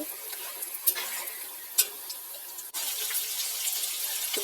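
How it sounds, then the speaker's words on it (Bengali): Chopped onions frying in a wok for biryani, a steady close sizzle with a few brief stirring clinks and scrapes, no voices. "এবারে পেঁয়াজটাকে কুচিয়ে ভালো করে ভাজছি"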